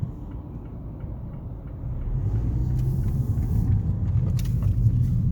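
Road traffic rumbles around a 2017 Mazda 3 SP25 GT crossing a major highway at peak hour, a dense, steady low roar from inside the car that swells midway and stays loud.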